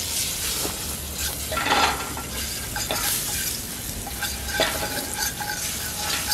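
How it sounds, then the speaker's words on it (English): Pepper and garlic sizzle in chicken fat in a pot, a continuous close crackling fry broken by scraping stirs and occasional metallic taps of a utensil against the pot, with no voices. "Just put in pepper and garlic to burn it a bit."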